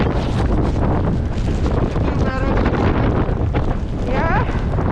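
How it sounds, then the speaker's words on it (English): A strong gale-force wind buffets the microphone on a beach where people dig for razor clams, producing a constant loud roar with no letup, and faint voices are barely audible beneath it. "Wind is too much."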